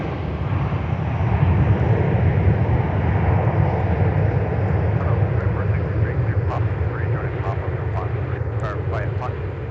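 A Delta Boeing 737-900ER airliner lands at MSP airport, its engines a steady, loud, broadband roar that fills the whole stretch with no break.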